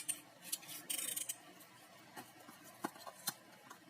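Scissors snipping through a cardboard cigarette pack while a miniature sofa is being made, a quiet burst of rapid cuts early on, then a few sharp, separate snips, close and faint with no talking.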